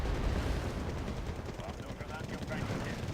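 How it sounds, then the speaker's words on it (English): Bombs falling and exploding in Wargame: AirLand Battle, a continuous low rumbling roar of blasts and battle noise that stays loud and dense throughout, with no clear gaps between impacts. "Dropping bombs."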